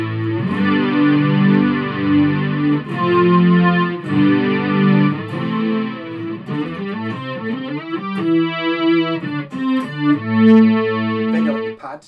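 Boss SY-1 synthesizer pedal on its strings setting plays sustained chords, with a lush chorus-like shimmer and some grit, changing notes over several seconds.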